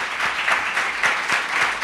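A studio audience on a Spanish television show claps for the guest Sowick in a brief burst of rhythmic applause, with loud, evenly spaced beats.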